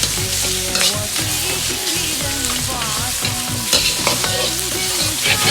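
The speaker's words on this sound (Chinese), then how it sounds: "煸炒出香味" Pork ribs stir-fry in a wok with ginger, scallion and star anise for sweet and sour ribs, a steady close sizzle and stirring under prominent tonal background music.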